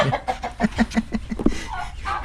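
Three turkeys on a farm cluck in a quick run of short, evenly spaced calls close by, then give a softer, drawn-out note near the end, with no talk over them.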